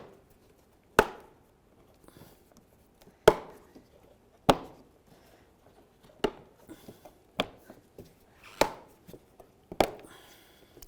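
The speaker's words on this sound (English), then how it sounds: "Listen for a click." Plastic lower grille tabs on a 2009-20 Dodge Journey snap into place with about half a dozen sharp, close clicks, spaced irregularly over roughly ten seconds with quiet handling noise between them.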